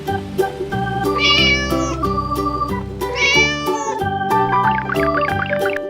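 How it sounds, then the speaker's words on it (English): Two or three drawn-out cat meows ringing clearly over cheerful children's music, close and fairly loud, with a shorter mewing phrase near the end. "Cat."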